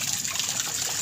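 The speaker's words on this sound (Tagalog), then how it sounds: "Tapos dito sa gilid, umaapaw yung tubig." Swimming pool water spilling over the edge into a side drain channel, a steady close gushing and trickling wash that stays even and unbroken.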